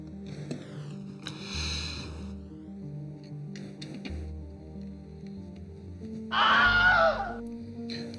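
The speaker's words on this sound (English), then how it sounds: "Oh, I just heard a Wilhelm scream." A Wilhelm scream sound effect rings out as a short, loud, shrill cry of about a second near the end. Before it, softer background sounds and music play.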